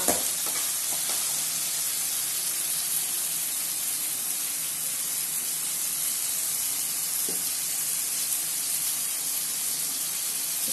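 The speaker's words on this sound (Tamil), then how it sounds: "இது நல்லா கொஞ்சம் நேரம் அந்த எண்ணெயில் நல்லா வதங்கட்டும்." Eggplant sautéing in oil for ennai kathirikkai kulambu, a constant close sizzle and hiss with faint stirring scrapes, continuing evenly without speech.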